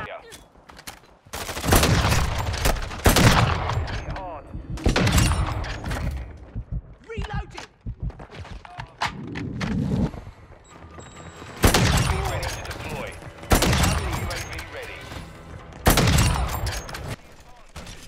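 Bursts of gunfire from sniper rifles in the video game Modern Warfare 2 come as sharp, loud cracks and booms. They arrive in separate clusters with quieter gaps between them.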